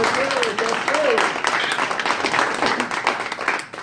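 Audience clapping at a free comedy show for veterans at a VA hospital, a dense steady wash of applause mixed with voices and cheering, lasting throughout.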